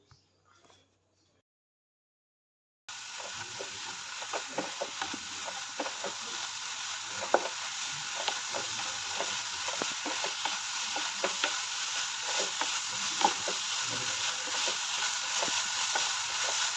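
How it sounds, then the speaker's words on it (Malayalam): Drumstick flower thoran (muringappoo) is stirred and mixed in a pan, a soft steady sizzle with light scraping clicks that starts after a near-silent opening, and no one speaks. "ഇനി നമ്മളിതിനെ നല്ലപോലെ മിക്സ് ചെയ്ത് കൊടുക്കണം"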